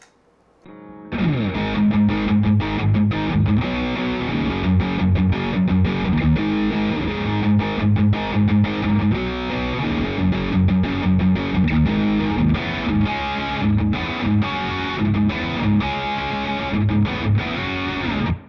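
An electric guitar played through an Uzi distortion pedal into a clean amp gives a thick, heavily distorted tone with chugging riffs and sustained chords, loud and continuous after a short quiet start.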